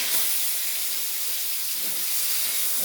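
Pieces of rohu fish frying in hot oil, giving a steady, dense, close hiss that stays even throughout, with no voices.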